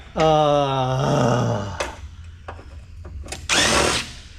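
A power drill backs screws out of a heavy server power tray during e-waste scrapping: one whining spin that winds down, a few light metallic taps, then a short second burst of buzzing noise.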